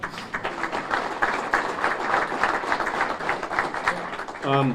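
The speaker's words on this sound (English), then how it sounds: "give him a round of applause" Scattered, moderately loud clapping from a city audience at a Waterville State of the City address greeting newly elected Vice Mayor Todd Borowski, a steady patter for a few seconds before a voice begins at the end.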